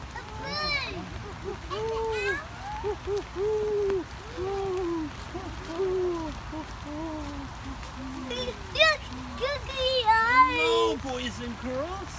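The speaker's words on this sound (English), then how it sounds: "What is this? A bird." A bird hoots like an owl in a forest setting, with a series of rising and falling calls repeated at a moderate pace, close and clear, growing busier toward the end.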